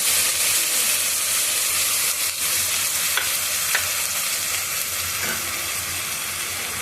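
Onion paste frying in a pan with cumin seeds and ginger-garlic paste, giving a steady loud sizzle and hiss throughout with occasional stirring scrapes.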